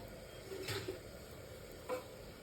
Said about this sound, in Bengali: একটু নাড়িয়ে দিলাম ডালটা